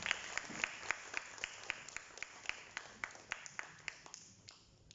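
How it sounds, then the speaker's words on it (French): Scattered audience applause at an opening ceremony of an education fair, a steady wash of many hands clapping with sharp individual claps standing out, fairly distant and slowly thinning toward the end. "Sous vos applaudissements, s'il vous plaît."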